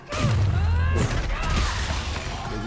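A loud, booming gunshot rings out in Resident Evil 3 at close range, with a heavy low-frequency blast that decays into rumbling game ambience and effects.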